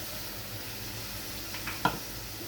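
A small splash of spice-rinsing water poured into a hot pan of oil with turmeric and chili powder, producing a steady hissing sizzle with a brief sharp clink of utensil near the end, close and alone.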